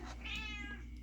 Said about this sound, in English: sorry about my cat, Larry Morgan.